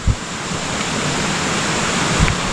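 Continuous rushing water noise, steady and full, with a couple of low thumps near the start and end; no talking.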